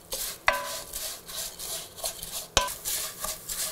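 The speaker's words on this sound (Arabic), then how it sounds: "We will stir until the noodles are nice and golden." Vermicelli noodles stirred in hot oil, with a scraping utensil and two sharp clinks against the pan over a soft, steady frying hiss.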